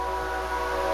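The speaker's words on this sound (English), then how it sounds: "You can hear it whistling for the crossing." Diesel locomotive horn sounding for a crossing on a local switching run, a loud sustained chord heard close by with no break.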